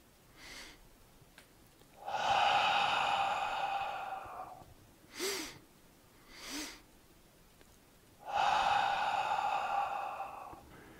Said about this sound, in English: So this is Shi Shi Hu breathing, or in and out.